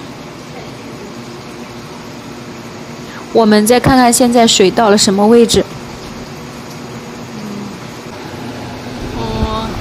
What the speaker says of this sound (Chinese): 里面的风扇也在不停地转，这个风机很凉爽，唯一不足之处声音特别大。